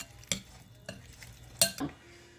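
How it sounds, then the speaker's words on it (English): Salsa being stirred in a bowl gives a few soft, separate scrapes and clinks of a utensil, quiet and close, with no voices. "Give it a good stir, and you have an incredible salsa."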